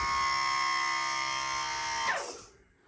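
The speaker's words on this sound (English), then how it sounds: "If we put the blue and the purple together and put it on power, the motor's now going to lift up" The electric power tilt and trim motor of a 1983 Mariner 50hp outboard hums with a steady, loud whine while lifting the engine, then winds down with a falling tone and stops, leaving near silence.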